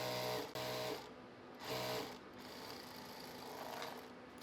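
Sewing machine double-stitching a palazzo, with short bursts of close, rapid mechanical whirring separated by pauses and a quieter steady run afterward.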